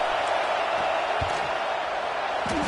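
A steady roar from a packed college football stadium crowd during a field goal attempt in LSU at Ohio State, dense and loud throughout with a few faint whoops rising above the wash.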